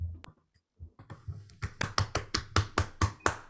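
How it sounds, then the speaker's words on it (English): A group of students in an online Python coding class clap together as a reward for a correct answer, a quick burst of close, sharp hand claps that settles into a steady run of about ten rhythmic claps. "So can you all clap for yourself once for getting the right answer?"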